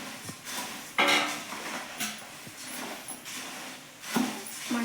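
Utensil scraping and clanking in a pan while roasted puffed rice (mandakki) is tossed with hot oil, intermittent metallic knocks and rustling at close range, no talking.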